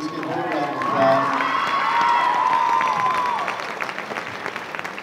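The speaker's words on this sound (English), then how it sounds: "let's give her a round of applause" Students at a high school prom court assembly applaud and cheer, with whoops and shouts rising over loud, sustained clapping that swells and then gradually thins out.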